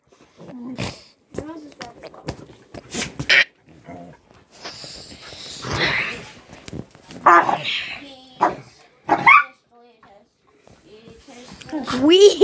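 Dogs growl, yelp and whimper in bursts amid a scuffle at close range, while a person shouts over them.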